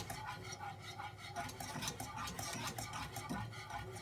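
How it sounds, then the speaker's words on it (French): Pastry cream for tartlets is stirred in a saucepan over low heat, a faint, continuous soft scraping and swishing under a steady background hum. "Et on va remettre sur le feu à feu doux. Et on va bien mélanger."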